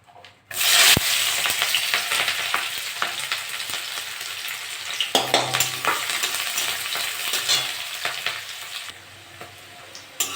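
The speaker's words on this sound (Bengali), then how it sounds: "পেঁয়াজটা একটু লাল লাল করে ভাজা করে নেব।" Onion and green chillies hitting hot mustard oil in a kadai, a sudden loud sizzle that holds as a dense crackling hiss, with stirring scrapes throughout and no voices.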